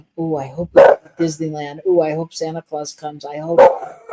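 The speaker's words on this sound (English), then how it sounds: "if you can hear them barking in the background" A dog barks repeatedly in short sharp bursts behind a person talking, the barks landing between and over the steady speech.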